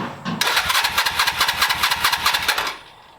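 A 1982 Suzuki GS300L motorcycle engine, just back from a carburetor clean, cranks and catches after a brief starter whir, firing in a rapid, rhythmic burst for about two seconds before cutting off abruptly; close and loud, no voices.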